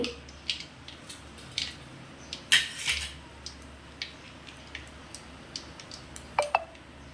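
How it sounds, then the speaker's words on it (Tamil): Mustard seeds splutter in hot oil in a pot, giving scattered sharp pops and crackles that come singly and in small bursts over a quiet background, close by, with no voices. "கடுகு நல்லா பொரிஞ்சிச்சு"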